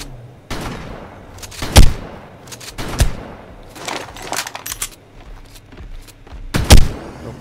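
Shotgun blasts in ARK: Mobile Dungeons come in bursts, with several close, heavy booms and quicker rattling shots between them, loud and alone with no talk over them.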